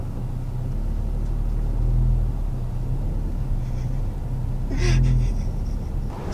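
A car driving off, a steady low engine rumble with broadband road noise throughout, swelling slightly as it pulls away, heard from inside or close by.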